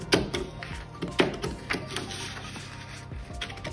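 Scissors or a cutting tool clip through a paper princess seam sewing pattern, making several sharp snips and rustles at irregular intervals, close by.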